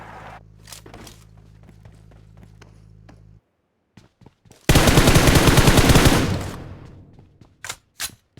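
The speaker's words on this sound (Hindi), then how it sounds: "पहले इस गेट पे प्री फायर देता हूँ" Sustained automatic gunfire at a gate in PUBG Mobile rips out as one loud, rapid burst after quiet footsteps and ambient hum, then tails off into scattered taps and movement.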